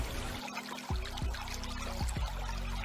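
A spring meltwater stream runs with a steady watery wash and gurgling, plopping drops close by.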